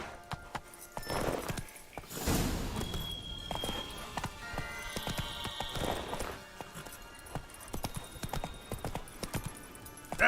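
Roach the horse gallops in The Witcher 3: Blood and Wine, rapid rhythmic hoofbeats close by, with a whoosh of movement and a brief rise in intensity as the pace picks up.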